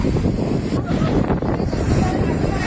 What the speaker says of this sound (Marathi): प्रचंड वारा आहे